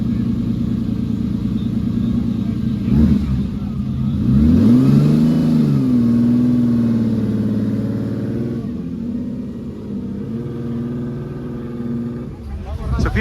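Cars pull away from a car meet one after another, including a Mitsubishi Pajero Evo and a Nissan Skyline R32, engines droning and revving loudly nearby with a rising pass in the middle, while people talk over it.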